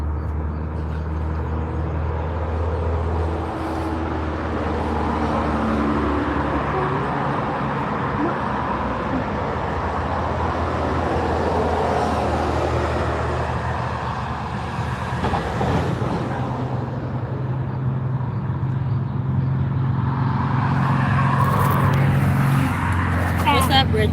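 Steady street traffic with cars rolling past continuously, a loud low rumble throughout and a brief louder pass near the middle, while people talk over it.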